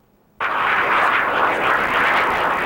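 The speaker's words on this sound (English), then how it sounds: "U.S. jets screamed overhead." US military jets fly overhead in Baghdad, a loud roaring jet-engine rumble that starts suddenly after a moment of quiet and holds steady and close.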